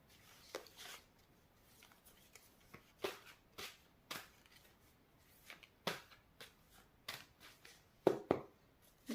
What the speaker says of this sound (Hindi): कुछ और कार्ड्स निकालती हूँ।